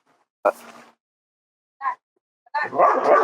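A dog barks a few times near a fire outdoors, with short sharp bursts separated by pauses and then a longer, louder stretch of rough barking at the end.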